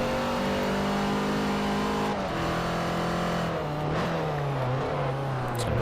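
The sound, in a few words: race car wheelspin, inside tire spinning, video game Forza Motorsport 4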